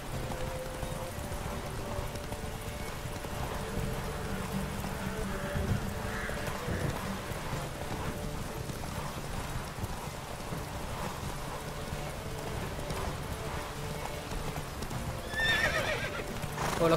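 In The Witcher 3, a horse's hooves beat a steady, rapid gallop over ground amid a dense game soundscape, with a brief whinny near the end, continuous and fairly close.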